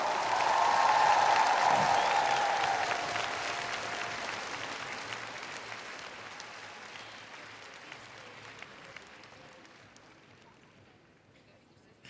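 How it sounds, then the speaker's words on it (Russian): Applause from a crowd of about 16,000 Oriflame members fills the Olimpiyskiy arena in Moscow, a loud dense roar of clapping at first that slowly thins and fades over several seconds, with cheering mixed in. "Дай себе аплодисменты все 16 тысяч орифлеймщики в Олимпийском!"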